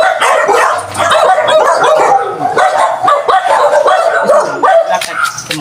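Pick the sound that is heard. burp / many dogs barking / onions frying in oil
many dogs barking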